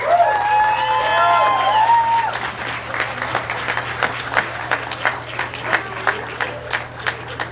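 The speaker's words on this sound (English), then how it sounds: "So big round of applause to John." Crowd applause at a 5K race awards ceremony in Santa Ana, honoring an 83-year-old finisher; dense clapping and cheering at first, mixed with voices, then thinning into scattered individual claps.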